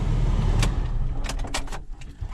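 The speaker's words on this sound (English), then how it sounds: "I took it out of the 4-wheel drive so I can spin my back tire." A 4x4 vehicle taken out of four-wheel drive spins its back tire, making a loud, steady, gritty roar and rumble with a few sharper scraping surges.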